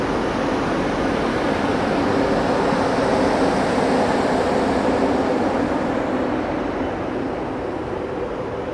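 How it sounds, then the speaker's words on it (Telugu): India's first hydrogen train runs on the Sonipat to Jind line, its engine giving a steady, low, broadband rumble and hiss heard from on board, constant in level and unbroken by any voices. "ఈ ట్రైన్ నుంచి ఇంజిన్ నుంచి సౌండ్ వచ్చే మాత్రం చూసుకుంటే కొంచెం తక్కువ సౌండ్ అయితే వస్తుంది"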